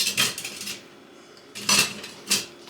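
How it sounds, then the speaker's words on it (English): Dirty pots, pans and cutlery being washed at a kitchen sink, with several sharp clanks and scrapes of metal against metal in separate bursts, close and fairly loud with quieter rattling between. "I hate washing pots and pans, but it's a necessity of life, I suppose."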